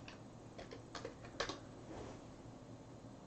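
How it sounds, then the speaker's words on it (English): Soft, quick keystrokes on a computer keyboard patter in short irregular bursts, faint and close, over a steady low background hum. "Sorry, I'm typing something."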